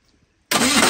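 A 1980 Chevy K30 truck engine, just fitted with a new starter after vacuum-leak repairs, catches abruptly from silence and roars loudly into a rough, steady run.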